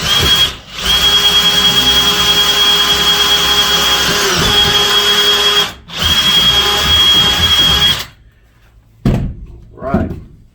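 Power drill boring into a chunk of metal on a trailer floor repair to fit a bolt: loud, close, sustained whine in two long runs broken by a short pause, then stopping, followed by a few knocks and brief handling sounds.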